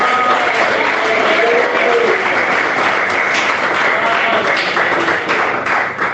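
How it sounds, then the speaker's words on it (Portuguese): A church congregation claps hands in dense, steady applause throughout, loud and close, with faint voices mixed in underneath. "Bate palmas."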